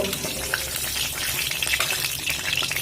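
Eggs fry lightly in hot oil in a pan, giving a steady, dense sizzle with small crackles and pops that carries on evenly throughout, close up and with no voices.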